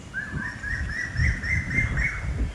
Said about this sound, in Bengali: কি সুন্দর পাখির আওয়াজ তাই না